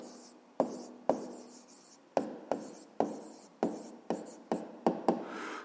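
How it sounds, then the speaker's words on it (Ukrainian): Hand writing out the second solution to a fifth-grade math exercise: about a dozen crisp, regular strokes tapping and scratching close by, each with a short trailing scrape, with no voices. "Записуємо тоді другий розв'язок."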